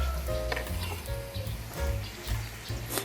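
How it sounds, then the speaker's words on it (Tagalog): Onions sizzle in a hot pan while cooking beef pares: a steady, close frying hiss runs throughout with a faint low tonal layer underneath and no talking. "So ilagay mo yung onions mo. Put the onions."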